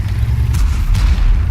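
A T110E5 heavy tank's cannon firing in World of Tanks, aimed at a T-57 Heavy: a loud, deep, sustained low boom filling the whole moment, with no talk over it.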